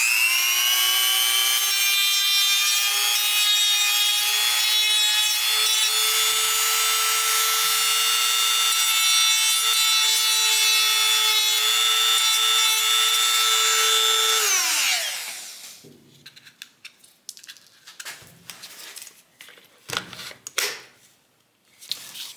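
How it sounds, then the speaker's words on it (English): A Dremel rotary tool fitted with a drum sander grinds into a Bauer drill housing, a loud steady high-pitched whine for about fifteen seconds before it winds down, followed by quieter scraping and handling noises up close. "I'm going to get in there with a Dremel tool and a drum sander."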